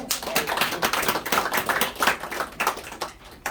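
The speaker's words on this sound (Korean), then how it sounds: "이 나라 보수의 대표적인 정치인 이인재 의원 다시 한번 박수로 환영해 주십시오." Clapping from a smallish audience at a political lecture gathering, uneven and rhythmic with clear individual hand claps swelling and easing in waves, close and fairly loud.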